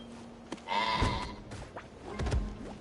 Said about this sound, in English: Beautiful goat, by the way.